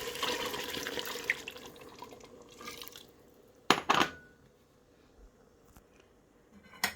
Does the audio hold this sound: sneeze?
no